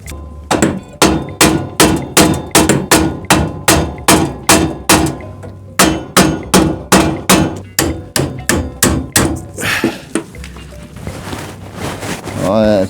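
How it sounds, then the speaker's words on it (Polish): Rapid, steady hammer blows drive a metal part into place, about two per second, loud and close, with a brief pause midway before a final scraping clatter. "Na siłę młotkiem."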